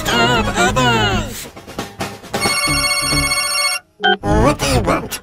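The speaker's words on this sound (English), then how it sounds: "please take a moment to turn off your cell phone so they don't scream during the show and disturb others" Electronic cell phone ringtone in a cinema pre-show announcement, bright melodic beeping chimes repeating loudly, cut off briefly by a short gap before resuming, mixed with voices speaking.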